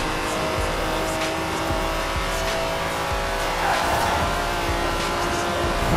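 A race car in Forza Horizon 4 drives with a steady engine drone and faint tire noise that continue throughout, loud and close, with no talk.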